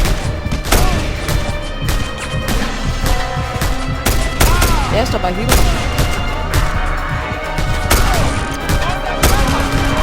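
Rapid gunfire from a Just Cause 2 shootout with soldiers, repeated shots and heavy booms layered densely over game sound, loud and continuous, with someone talking over the action.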